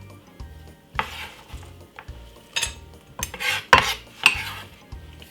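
Prawns being stirred in a pan for a Jamaican jerk king prawn dish, with repeated metal scrapes and clinks of a utensil against the pan in uneven strokes, close and fairly loud, with no talk.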